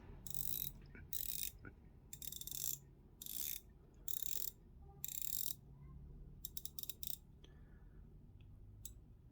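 A watch bezel being turned in bursts, giving crisp ratchet clicks in short rapid runs separated by pauses, close and distinct against a quiet background.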